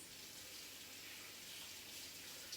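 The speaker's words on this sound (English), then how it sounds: "That's obviously my tap going." Kitchen tap running while a cleaning cloth is rinsed: steady hissing rush of water, continuous and soft, alone.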